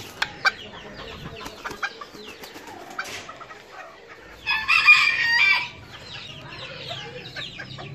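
A Serama rooster crows loudly once at close range, preceded and followed by soft clucking and chatter from the small hens in a quiet yard.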